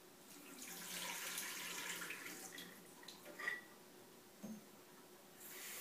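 Tap water runs over soaked almonds as they are rinsed in a sink, a steady splashing flow that shifts and sputters as the nuts are moved beneath it.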